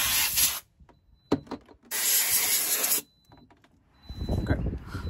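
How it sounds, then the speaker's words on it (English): Compressed air blown onto car battery terminals before cleaning, heard as two loud, close hissing bursts, each under a second long, with a quieter rustle and handling noise between and after them. "I'm just gonna blow some air onto it."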